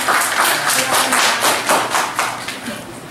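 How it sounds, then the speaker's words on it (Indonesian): Close, loud clapping from an audience at an open data and apps discussion in Surabaya, a dense burst of hand claps pulsing in irregular waves for a few seconds with no talk over it. "Tepuk tangan untuk beliau"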